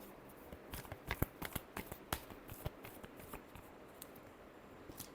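Tarot cards being shuffled, a run of crisp riffling flicks and soft slaps in an irregular rhythm, close and fairly quiet, with no voices.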